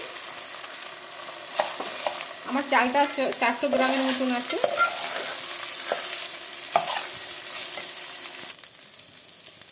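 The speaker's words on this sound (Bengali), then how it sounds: "আমার চালটা ভাজা হয়ে গেছে" Rice is fried, stirred and scraped in a sizzling pan with garlic paste for pulao while someone speaks over the cooking.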